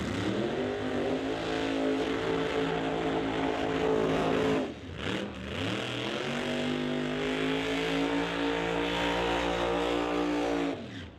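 Pro Modified drag race Camaros, a 1969 and a 2017, roaring down a drag strip at full throttle, loud harmonic engine wail climbing in pitch, a short break and a second rising run, no talk.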